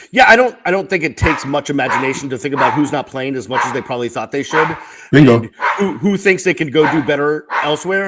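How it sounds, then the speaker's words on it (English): Two dogs yip and bark in sharp bursts while tussling over a toy, the scuffle audible under a man's steady, close talking that runs through the whole stretch. "my 2 dogs are fighting over a toy"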